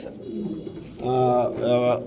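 Soft, low coos from racing pigeons repeat in two rounded bursts, close by, with a murmur of talk faintly underneath.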